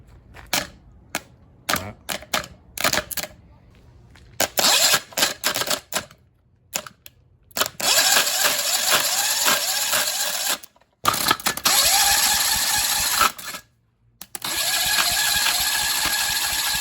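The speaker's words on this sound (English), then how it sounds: "testing the starter motor." Starter motor on a homemade engine built from junk parts: a run of sharp mechanical clicks and short bursts gives way to longer stretches of whirring, broken by abrupt stops.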